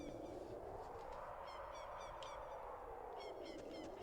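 Distant honking bird calls, goose-like, sound in short clustered bursts over a steady ambient hum in the ruined castle area of The Legend of Zelda: Ocarina of Time.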